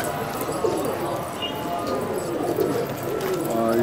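Ghaghra pigeons cooing on a rooftop loft, soft repeated coos close by over a steady background murmur.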